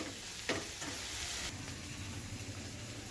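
Coriander, mint and curry leaves fry in hot oil for buttermilk rasam, a steady close sizzle with a few stirring scrapes early on and no voices.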